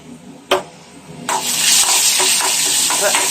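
Food sautéing in a pan in a hot home kitchen in Qatar, a quiet start, one sharp clatter, then a loud steady sizzle with stirring scrapes close by.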